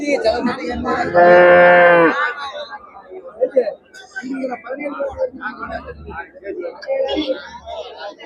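A dairy cow lets out a loud, drawn-out moo at a livestock market, followed by people chattering and murmuring in a busy outdoor crowd.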